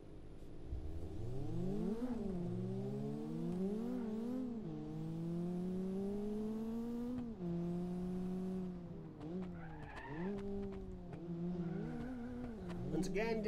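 Racing game car engine revving and climbing through gears, pitch sweeping up and dropping at each shift, with some tire squeal and a voice talking faintly underneath.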